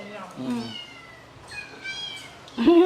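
House cats at an animal shelter meow in short bursts, a few calls spread across the moment, fairly close, with people talking quietly around them.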